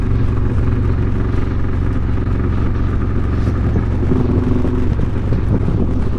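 Harley-Davidson motorcycles cruising along the Foothills Parkway, a steady low engine rumble mixed with wind buffeting the microphone, continuous and loud throughout.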